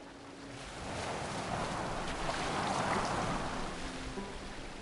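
A boat gliding across open water in Assassin's Creed Valhalla, with a steady wash of waves and wind rushing past, moderately loud and continuous with no voices.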